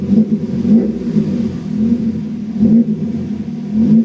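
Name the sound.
Honda Civic D15B engine revving, throttle pressed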